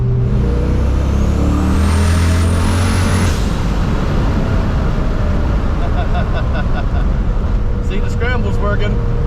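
A drag car with new 17-inch drag wheels and Team-Z suspension spinning its tires to warm them, a loud sustained engine roar and tire noise filling the whole stretch, with faint higher squeals near the end.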